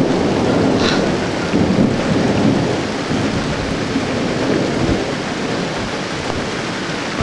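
A backyard thunderstorm brings steady rain pattering on surfaces, with low rolling thunder rumbling through and a few brief swells in loudness.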